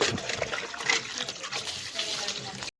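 Water draining out after being mixed in with diesel, a steady close trickling and splashing flow that runs unbroken from start to finish.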